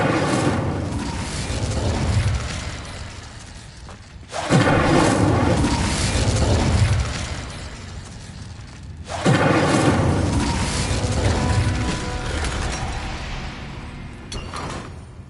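Three heavy whooshing fire bursts from Hogwarts Legacy, each a roaring rush that swells and then fades, spaced about five seconds apart. They sound loud and full.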